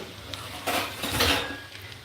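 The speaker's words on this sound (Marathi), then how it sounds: "आता आपण याच्यामध्ये थोडीशी झाकणी ठेवणार" A lid goes onto a pot of cooked sabudana khichdi, giving a short metallic clank and rattle near the middle, with a softer clink just after and a quiet kitchen hush around them.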